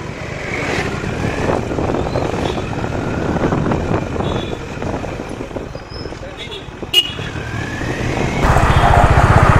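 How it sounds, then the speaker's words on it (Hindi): A Honda Highness CB350 motorcycle rides along with a steady engine drone and road and wind rush throughout, a voice talking over it, and a brief sharp knock near the end before the engine noise swells louder. "हम चला रहे हैं CB 350 हाइनेस को"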